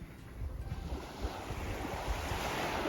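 Gentle surf of the incoming tide washes onto a sandy beach at Koh Lanta, Thailand, a soft continuous wash of small waves mixed with light wind buffeting the microphone.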